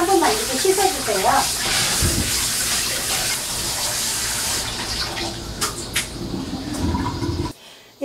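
Tap water gushes steadily as blanched raw chicken is rinsed under it in a kitchen, a loud, continuous splashing that stops abruptly just before the end.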